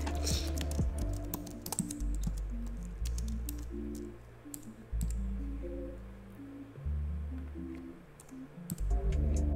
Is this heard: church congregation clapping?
no